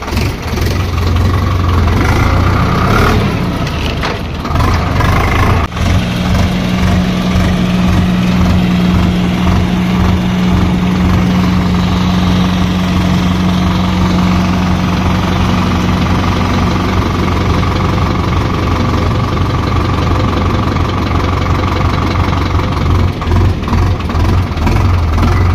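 A tractor engine idles nearby for the whole stretch, a loud, continuous low rumble with a steady mechanical throb and slight vibration. No one speaks.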